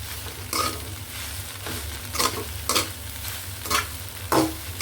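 Toasted bread pieces tossed into upma in a pan, a low continuous sizzle broken by five rhythmic scraping stirs spaced about a second apart.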